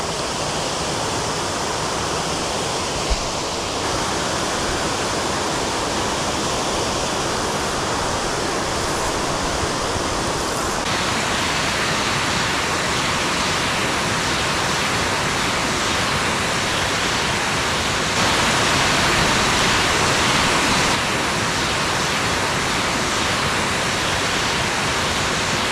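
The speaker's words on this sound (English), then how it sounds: "Such a beautiful waterfall." Steady, full roar of a waterfall on a backcountry brook trout stream, loud and continuous throughout with no voices.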